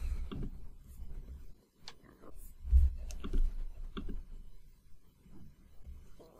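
Mouse clicks sound in a software interface: light, scattered clicks close to the microphone, mixed with a person speaking.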